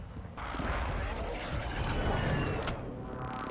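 Gunfire crackles through a video game battle, a dense continuous barrage of shots and booms that stays loud across the whole stretch, with a few sharper cracks standing out near the end.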